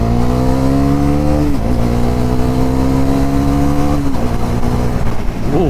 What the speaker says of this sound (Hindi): मैं थोड़ा अभी पुल करके देखता हूँ। सेकंड गियर पे बाइक है एंड हियर आई गो।